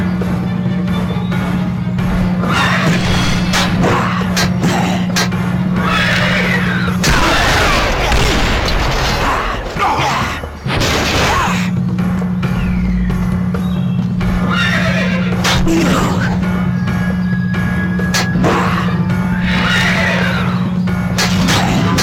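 Knights' horses in Ben 10 Alien Force's medieval forest level neigh and whinny loudly, with clip-clopping hooves and booming hits throughout a dense, continuous battle scene.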